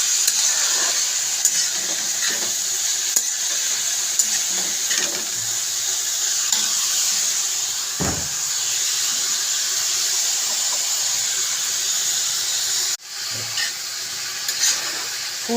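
Peas, chopped capsicum and spring onion are stir-fried on full high heat for chowmein, a steady close sizzle with intermittent spatula scrapes and taps throughout.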